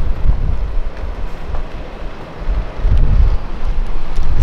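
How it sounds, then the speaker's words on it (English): Strong wind blowing outdoors by the Yellowstone River in Montana, a steady roaring rush buffeting the microphone with low rumbling gusts that swell toward the end; no talking. "Still really windy."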